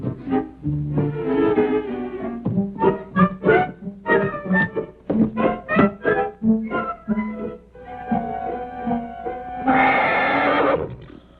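A horse neighs and whinnies repeatedly in a long, loud series of shrill, wavering calls with brief pauses, ending in a harsher burst, heard close in an outdoor ranch setting.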